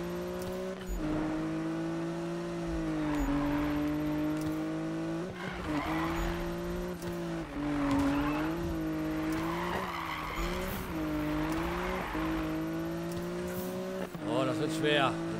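Tires screech and skid as a car drifts around corners in Need for Speed, a sustained squealing whine over revving engine sound, with someone talking throughout.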